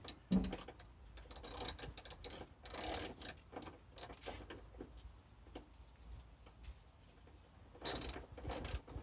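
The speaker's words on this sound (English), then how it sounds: "Put the crusty screws back in." While headlight and sidelight bulbs are being fitted, a ratchet clicks in short, quick bursts, close up, as crusty screws are driven back in, with pauses between the runs of clicks.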